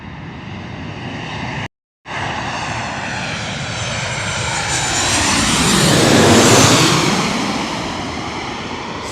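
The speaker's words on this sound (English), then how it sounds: "Get to hear this awesome sound of the Boeing 737-800." A Boeing 737-800 jet airliner, a Southwest flight, passes overhead in Queens, New York: a loud, continuous roaring engine rush that swells to a peak and slowly fades, heard alone outdoors after a brief cut in the sound.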